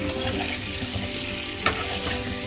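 Whole potatoes frying in a pot and being stirred, with a steady sizzle and soft scraping and a single sharp clink partway through.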